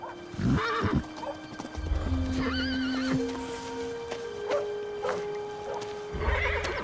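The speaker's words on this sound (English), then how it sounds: "You spooked my horse!" A horse whinnies loudly and shakily at close range, with snorts and hoof thuds around the calls and a sustained tone in the background.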